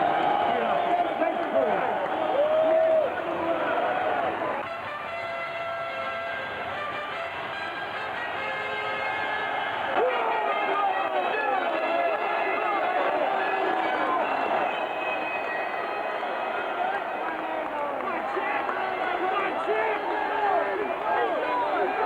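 A noisy crowd of about 8,000 fills Wembley Arena before a boxing title fight, a steady dense roar and hubbub that swells and holds throughout, with a commentator's voice running over it.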